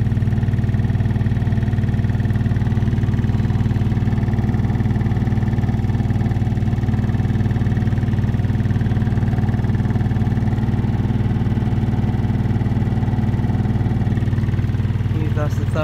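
Samsung Ecobubble washing machine on a high spin around 1,200 RPM, a loud, steady drone and hum held throughout, mechanical and constant.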